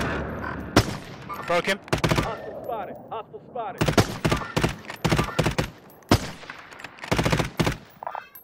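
Gunfire in the video game Call of Duty: Warzone, loud bursts of automatic shots in quick clusters separated by short gaps, with players talking between and over the shooting.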